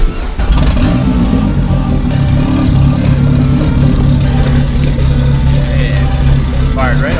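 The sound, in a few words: car engine starting and revving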